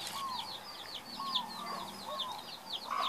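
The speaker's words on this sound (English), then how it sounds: "They have this little cluck they make." Soft repeated clucks and high chirping calls from jungle fowl chicks in Hawaii, close and fairly quiet, in a quick uneven rhythm.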